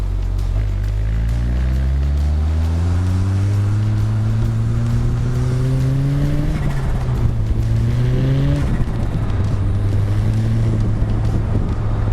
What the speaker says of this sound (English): So this is a standard MX-5 Mazda from 1998